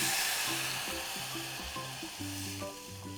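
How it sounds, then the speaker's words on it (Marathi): Water poured into a hot spiced tempering for pithala hisses into a strong, continuous sizzle, loud and close, with a steady melodic tune playing underneath. "आता या फोडणीमध्ये ना आपण 3 ग्लास पाणी घालून घेऊ."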